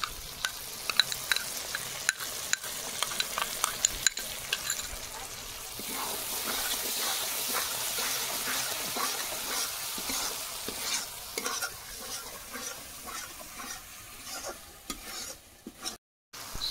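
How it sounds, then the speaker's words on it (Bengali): A paste of ground poppy seeds and cashews fries in a hot pan for a spicy prawn dish, giving a steady, close sizzle with the scrape of stirring throughout and a brief break near the end. "পোস্ত আর কাজু বাটা দিয়ে দেবো।"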